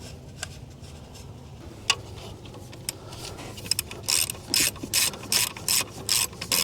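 Ratchet tightening a nut onto an alternator cable connector on a 2004 Land Rover Discovery, starting with sparse isolated clicks then settling into a quick rhythmic run of ratcheting bursts, close and alone.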